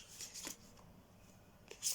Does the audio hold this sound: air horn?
no